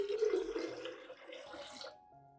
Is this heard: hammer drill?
no